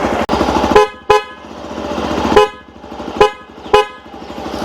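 Loud horn of a 2021 Hero XPulse 200 FI adventure motorcycle, an aftermarket replacement, honked in several sharp blasts of varying length over a steady engine idle, close by and with no talk.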